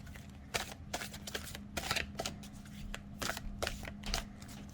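Tarot cards being shuffled by hand, giving close, crisp riffling bursts and soft slaps in an irregular rhythm with no voices.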